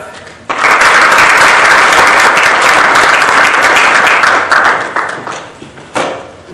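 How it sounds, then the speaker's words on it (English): An evening event audience breaks into a loud, dense round of applause that starts abruptly, holds strong for several seconds and then tapers off in uneven bursts. "Let us give him a big round of applause"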